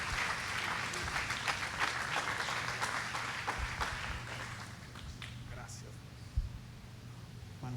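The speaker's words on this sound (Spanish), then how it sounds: "Denle una ofrenda de palmas a Dios, iglesia" A church congregation at Sunday worship claps together as an offering of praise, a broad wash of many hands with a low hum beneath, gradually softening toward the end, with a voice speaking over part of it.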